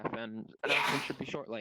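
A single abrupt sneeze bursts out during a meeting with new school staff, loud and close, with a person speaking before and after it.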